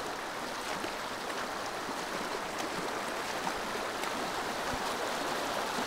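Clear river water of the Depalyon River near Depalyon Falls in Quezon flows in a steady, continuous rushing hiss, close and even throughout, with no voices.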